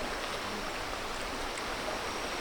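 Hot spring water at Plai Phu in Kapong, Phang Nga, where eggs are boiled, bubbles and churns in a steady, dense wash of noise with no pauses and no voices.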